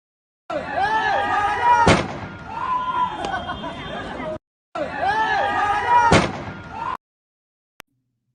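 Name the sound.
gunfire in video of militant shooting a man at Kabul airport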